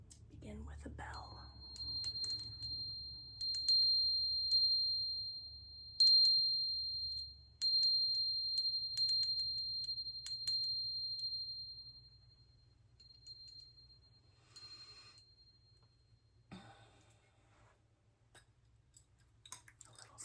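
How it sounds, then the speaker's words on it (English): A bell rung at the start of a Celtic Reiki healing session, giving bright high ringing tones that linger and fade over soft whispering and quiet rustling close to the microphone. "Begin with a bell."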